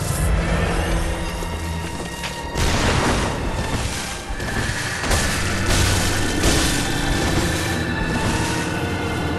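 Explosion in the Bloodborne video game, a booming burst with broadband roar hitting around two and a half seconds, followed by continuing rumbling game sounds and further blasts through the rest of the passage.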